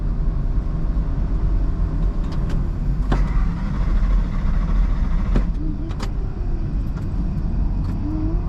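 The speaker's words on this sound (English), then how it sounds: "Truck won't start." A truck at a Ford festival cranks without catching, a steady engine-like rumble with a few brief clicks and clunks against a busy outdoor background.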